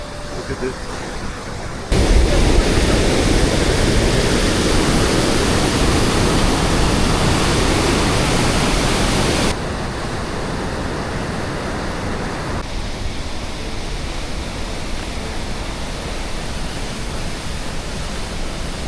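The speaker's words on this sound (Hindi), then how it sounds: "यहाँ पर पुष्पावती रिवर अपने पूरे फ्लो में है।" The Pushpavati River rushes in full flow in a mountain valley, a loud, dense and continuous roar of water close by, shifting slightly in level as the position changes.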